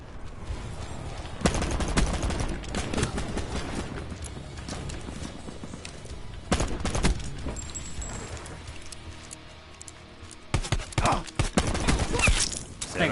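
Gunfire in gun game mode of Call of Duty Black Ops 4, with several bursts of rapid close shooting broken by quieter stretches and faint background game noise.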